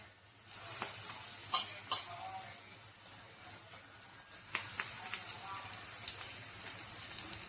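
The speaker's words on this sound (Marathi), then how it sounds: "आता याच्यात आपण हे भजे सोडून घेऊ." Bhaji fritters sizzle steadily in about half a litre of hot oil, with a broadband crackling hiss and sharp spatter pops that get busier as more batter drops in, close and moderately loud, with no voices.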